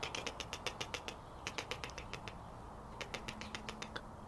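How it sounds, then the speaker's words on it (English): A squirrel chatters in rapid bursts of sharp, clicking chirps, repeated in quick rhythmic runs with short pauses, fairly faint over a steady background hiss. "That sounds like a squirrel."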